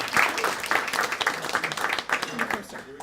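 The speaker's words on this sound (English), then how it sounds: "So let's give them a round of applause." An audience at a Murrieta award event claps together, a fairly dense patter of hands at close-to-mid distance with some voices mixed in beneath it.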